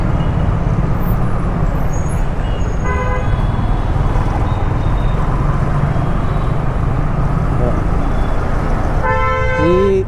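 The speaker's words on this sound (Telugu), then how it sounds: "ఈ నుంచలే ఇప్పుడు ఇదంతా ట్రాఫిక్ ఉంది కదా" Busy city road traffic in a Telangana-area town, with a steady wash of engines and repeated car horn toots near the start and a louder honk near the end, under occasional talk.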